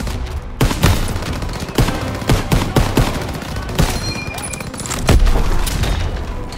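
Gunfire in Call of Duty: WWII, with dense volleys of rifle and machine-gun shots and booming impacts cracking in irregular bursts, loud and close under occasional shouted voices.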